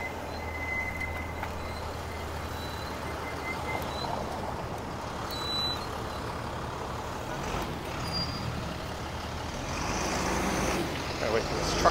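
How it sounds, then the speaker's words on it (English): Steady city traffic rumble as a truck turns at a Toronto street intersection, heard from an electric bike waiting at the curb, with a continuous low engine drone and faint hiss throughout. "Gotta wait for this truck to turn here."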